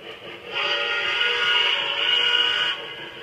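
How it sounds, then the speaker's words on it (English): A loud, sustained train whistle in a train app blows for about two seconds, starting and stopping cleanly over a low background rumble. "blow the whistle at the switch"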